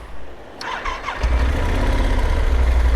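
A big motorcycle engine starts up beside a flooded creek crossing, catching after a brief crank and settling into a loud, close, steady rumbling idle.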